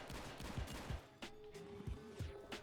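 Gunfire in the video game Hotline Miami 2 comes as rapid, overlapping bursts of shots, fairly faint and irregular, with a few sharper single cracks toward the end.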